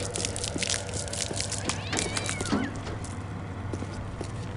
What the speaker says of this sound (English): The cat is on fire.